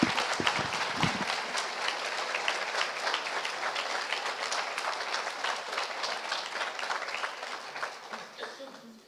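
Sustained audience applause after a talk at a college live-streamed event, a steady wash of many hands clapping that fills the room and slowly fades toward the end, with no voices heard over it.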